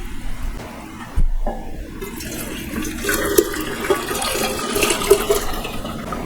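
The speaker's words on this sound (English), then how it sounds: "now I will drain and cool them" Cooked red bell peppers are drained of their marinade in a kitchen. Liquid gurgles and rushes steadily after a short knock, with splashy pours rising and falling close by.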